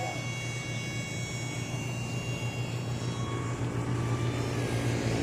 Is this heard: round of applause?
no